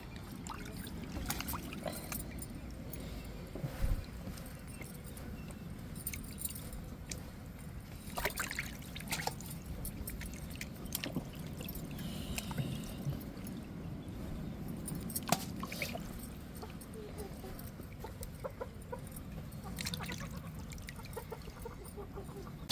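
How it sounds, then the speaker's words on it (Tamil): Water trickles and splashes while fish is rubbed and washed with rock salt, a faint and uneven wet sound with scattered scraping and clatter, and chickens cluck nearby in the background. "நல்லா மீனை உரசி கழுவி எடுத்துட்டு"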